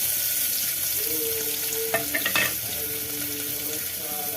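Cut carrots fry in a spoonful of ghee in a pressure cooker while being made into carrot payasam. A steady, close sizzle runs throughout, with a few quick scraping stirs near the middle.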